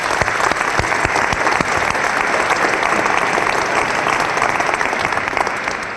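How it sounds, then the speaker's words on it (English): An audience at a panel talk on truth-telling gives a round of applause, dense and steady clapping from many hands throughout, fading slightly at the end. "Can we give Jack a round of applause for his time in the spotlight?"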